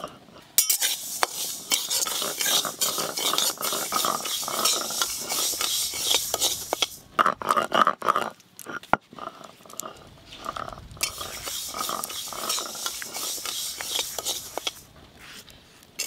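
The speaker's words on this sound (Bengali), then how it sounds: "শুকনো কড়াতে একটু নেড়ে তারপর ধুয়ে নেব" Sona moong dal being stirred in a dry wok with no oil, a busy rasping scrape of grains and spatula against metal that pauses briefly midway, then resumes.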